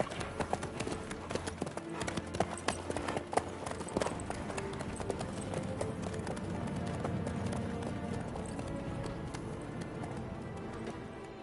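Horse hooves clip-clop in The Witcher 3 video game, a steady rapid patter of hoofbeats at a trot or canter, close and continuous under faint background ambience.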